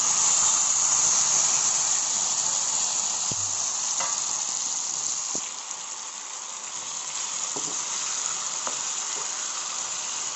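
Mango pieces fry in a hot pan for a homemade pickle, giving a constant close sizzle with occasional stirring clicks and scrapes and a slight drop in intensity midway.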